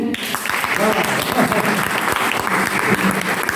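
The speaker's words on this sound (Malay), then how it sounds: "Cuba dengar tepuk tangan sikit." A crowd claps steadily and fairly loudly for a few seconds, with voices murmuring faintly underneath.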